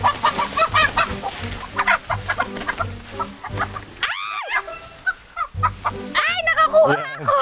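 Several chickens cluck loudly and close by, with excited squawks and flapping, while a person's voice is heard faintly in the background.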